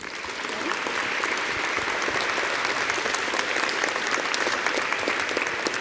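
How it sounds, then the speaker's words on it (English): Sustained applause from a seated audience welcoming two guests onto the stage at a political conversation event, dense steady clapping that swells in over the first second and holds loud throughout. "If you'd please give a big round of applause to Fraser Nelson and Kate Forbes."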